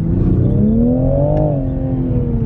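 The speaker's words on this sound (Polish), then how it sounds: "Przyspieszenie ma dość dobre, jak wciśniesz gaz, to moment jest." A 2019 Toyota GR Supra engine pulls under throttle on a rough country road, its deep, close drone rising in pitch then easing back, loud and steady with no talk over it.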